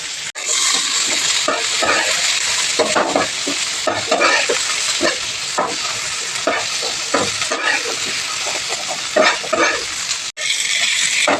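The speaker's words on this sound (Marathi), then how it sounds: "तर चला चांगल्या पद्धतीने वाटण भाजून घेऊया" Ground masala paste roasting in hot oil in a pan for a stuffed brinjal dish, a continuous loud sizzle broken by repeated scraping strokes of a spatula, with no talk over it.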